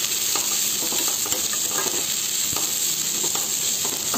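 Onions frying over a medium flame in a pan, a steady close sizzle with small crackles and pops running throughout, no voices.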